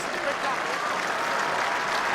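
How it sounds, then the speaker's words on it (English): A rugby stadium crowd at a Scotland versus England Six Nations match applauds a player leaving the field, a steady, dense wash of clapping throughout, with a commentator speaking over it. "Applause from the crowd for Denton."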